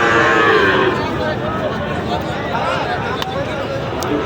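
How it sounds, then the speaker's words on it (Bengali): Sahiwal bull calves moo at a busy cattle market, a long drawn-out low call close by, with crowd babble and talking throughout. "এখানে আর দুইটি শাহিওয়াল ষাঁড় বাচ্চা দেখতেছি।"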